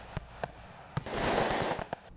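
Noisy fireworks bang in a residential area of Espírito Santo: sharp, separate cracks go off near and far, with a fizzing burst of crackle in the middle.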